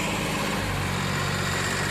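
Massey Ferguson 8055 tractor engine running steadily at a low, even rumble, close by and alone without talk.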